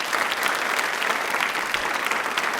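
A studio audience on a general knowledge quiz show claps loudly and steadily, a dense even patter of many hands close by with no talking over it.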